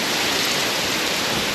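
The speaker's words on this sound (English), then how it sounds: "The wind is just screaming," Hurricane Ian wind and rain outside a house during the storm, a loud, dense, unbroken roar of driving rain and gusting wind that fills the whole clip, close and steady with no voices.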